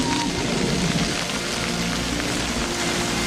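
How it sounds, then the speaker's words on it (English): Steady rain pours continuously as a dense, even hiss, with no voices over it. "It's gonna rain."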